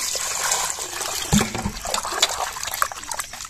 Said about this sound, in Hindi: तो चलिए इसमें हम पानी डाल देते हैं।